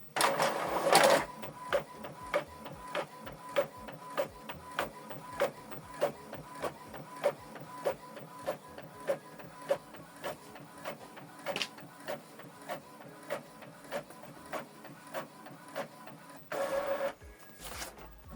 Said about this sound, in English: The document is printing.